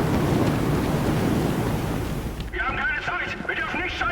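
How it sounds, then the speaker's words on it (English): A large explosion rumbles in the video game Sniper Elite 5, a loud, thick roar that fills the first half and then settles into a lower rumble beneath shouting voices. "Time to get clear of the blast and watch the fireworks."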